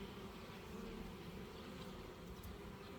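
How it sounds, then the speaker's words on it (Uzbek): Honeybees buzz inside an open hive, giving a low, faint, continuous drone that stays steady throughout with no speech. "Mana endi arilar tagidan qismga o'tib ketadi."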